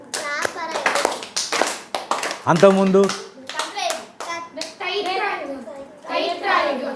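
A group of children clapping their hands in bursts of sharp, close claps, mixed with children's voices talking and chanting throughout.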